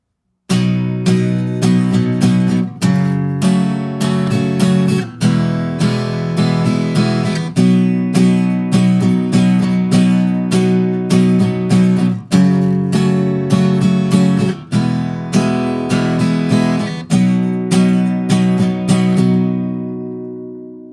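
Strummed guitar chords of a song ring out in a steady progression, each chord struck repeatedly and sustained, played solo and close, fading at the end.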